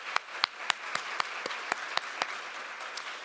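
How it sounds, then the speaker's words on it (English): Sparse applause from a small audience at a summit welcome event: a dozen or so separate sharp claps in an uneven rhythm over a quiet room, fairly faint and distant. "Can I get a round of applause, please?"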